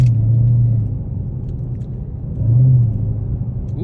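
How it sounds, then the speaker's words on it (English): Idling supercharged Dodge Charger Hellcat engine, a steady low rumble close by that swells briefly twice with light throttle, no talk over it. "you can hear that supercharger."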